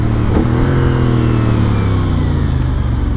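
CF Moto 450NK motorcycle engine revving steadily at speed, a continuous loud mid-pitched drone with a brief rise early on, with no talking over it.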